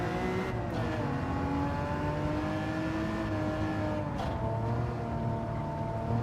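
A naturally aspirated, large-displacement six-cylinder racing car engine in a driving game, holding a loud, steady drone with rising and falling harmonics like sustained throttle, continuous throughout with no talk.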